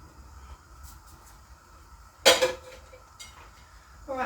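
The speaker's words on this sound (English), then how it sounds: "I'm going to put that lid on to help that a little bit" A lid set onto a pot of vegan soup simmering on the stove lands with a single sharp metallic clatter, near and brief, against quiet kitchen background, with a softer clink near the end.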